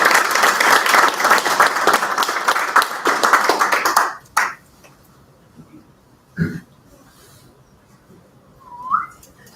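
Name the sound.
applause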